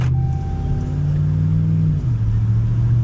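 A supercharged 5.7 HEMI Ram pickup truck engine idles with a deep, steady rumble while warming up, running close by, its pitch shifting slightly lower partway through; no talking.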